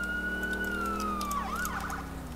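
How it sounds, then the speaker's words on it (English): Emergency vehicle siren from the game GTA IV, in a fire and medic response mode set in Liberty City, wails steadily at close range and then sweeps up and down in pitch toward the end, over a low engine drone. "At least there's a siren."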